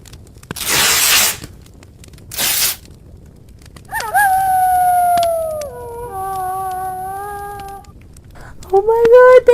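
A wolf cub howls in a long wavering tone that slides downward, then a second drawn-out howl, with a sharp rising yelp at the end, preceded by two bursts of tearing or rustling noise.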